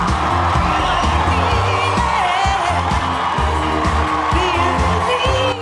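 TV show audience cheering a performance, a dense, loud roar of crowd shouting and whooping that holds steady throughout with music underneath.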